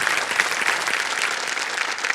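Steady studio audience clapping on the Kaun Banega Crorepati game show, dense and fairly loud, with many hands applauding together throughout.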